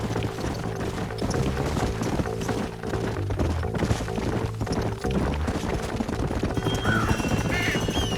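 Horses whinny and hooves clip-clop in Red Dead Redemption, a Western video game, amid a dense, busy mix of game sound that stays steady and fairly loud throughout.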